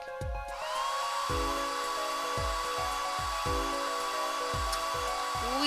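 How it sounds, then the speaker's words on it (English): A hair dryer blasting plaster in the Apollo Justice Ace Attorney video game, a steady high whirring hum with repeated low thumping beats of game music underneath, loud and continuous. "Just press X to blast it with that dryer"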